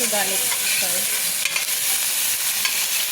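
Onions for lemon rice sautéing in a pan give a loud, dense sizzle with steady stirring and scraping, plus a few light clinks, and no voices.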